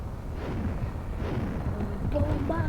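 Bomb explosions in the video game Roblox, a dense stretch of low rumbling blasts and bursts that keep rolling under game noise, with a few tonal chimes near the end.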